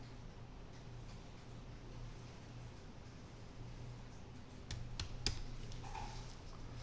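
Faint computer keyboard key presses come as a few sharp clicks near the end, over a low steady hum in an otherwise quiet room.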